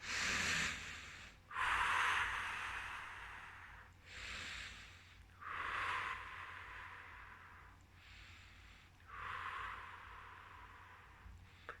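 Slow, calm breathing during a relaxation exercise for children: about five long, airy breaths, each a soft rushing hiss separated by short pauses, close to the microphone and fairly quiet.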